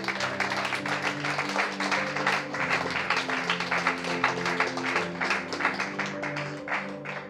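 A church congregation applauds in steady, rhythmic claps that fill the whole stretch, moderately loud, with sustained musical tones or singing underneath.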